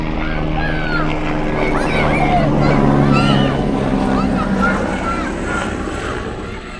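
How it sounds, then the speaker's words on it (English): A helicopter passes overhead with a steady low rotor drone that holds throughout, while people talk over it nearby. "Oh, not another one. Not another helicopter."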